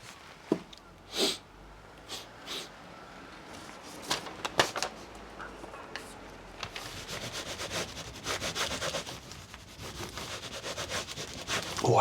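A baren rubs paper against a Japanese woodblock, soft scratchy strokes that start sparse and quiet with a few isolated scrapes, then become steadier and denser toward the end, close and faint.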